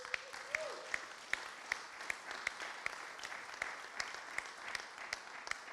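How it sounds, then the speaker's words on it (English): Conference audience giving a round of applause, fairly faint and distant, with sharp claps standing out at a steady rhythm over a softer wash of clapping. "Give them a round of applause"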